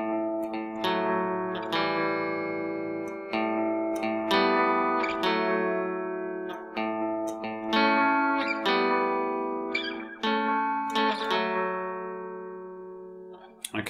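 Guitar plays a melody, a slow run of clean, ringing plucked notes with sustained tones and some effects, steady and close with no talking over it.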